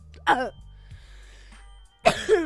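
Two harsh, close coughs from one person are separated by a quiet stretch with faint background sound, the second cough loud and followed by a short throaty rasp.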